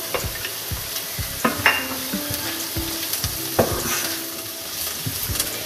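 Onion, garlic and ginger frying in hot oil in a pan, with a continuous bright sizzle and repeated spatula strokes and light scrapes against the pan at an uneven rhythm, close and with no voices.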